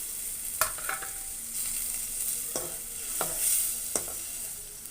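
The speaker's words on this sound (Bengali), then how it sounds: "মাছগুলো কষানো হয়ে গেলে তুলে রাখবো" Tengra fish sautéed in a pan for a spinach jhol, with a steady oily sizzle and a few sharp stirring clinks and scrapes scattered through it.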